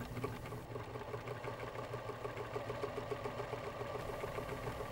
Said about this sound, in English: Begin sewing.